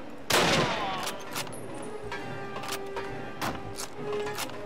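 Gunfire in the Call of Duty video game, with a loud opening burst followed by scattered sharp shots and rattling volleys over a steady background of battle noise.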